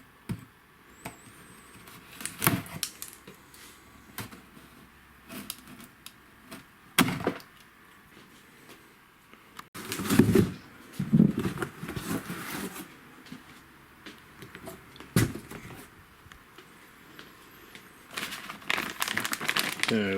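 A ZD Racing EX-07 RC car kit is unboxed, its cardboard box and plastic packaging crinkling, rustling and thumping in intermittent bursts close by, with quiet pauses between handling.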